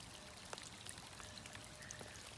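Rain falls outdoors as a soft, constant hiss with scattered sharper drips, faint and steady throughout. There are no voices.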